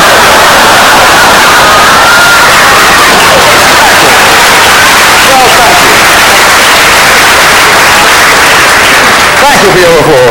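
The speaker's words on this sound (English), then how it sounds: "Thank you for your applause" A stand-up comedy audience applauds and cheers: loud, sustained, dense clapping and shouts fill the whole stretch, steady from start to finish with no pause.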